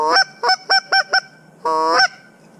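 Geese honk near and loud in an open hunting setting, five quick calls in a row, then a short pause and one longer, drawn-out honk.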